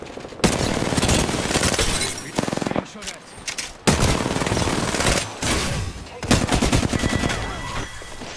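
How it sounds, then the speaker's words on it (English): Bursts of automatic gunfire from the Apex Legends battle royale shooter, loud and dense, coming in several long volleys with brief gaps between them and a voice speaking now and then. "Opening fire on the enemy."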